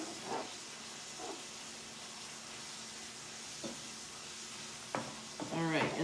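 Tomato paste sizzles softly in a pan under a low steady hiss while a utensil spreads it around, with a few light scrapes and taps and a brief voice near the end.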